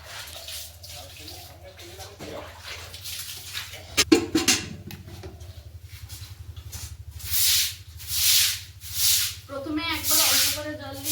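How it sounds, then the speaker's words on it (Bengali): Water is splashed and sprayed across a concrete floor as it gets a thorough wash, in uneven gushing bursts that grow louder toward the end, with a voice talking at times. "আজকে আমি এই মেঝেটা একেবারে জল দিয়ে ভালো করে ধুয়ে দেবো"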